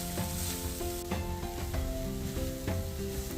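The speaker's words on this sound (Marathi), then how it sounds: "खोबरं घातल्यावर आता व्यवस्थितरित्या परतून घेते" Cluster bean kheema with grated coconut sizzles loudly in a pan, a dense close frying hiss broken by a few scraping stirs of a spoon against the metal, with no talking.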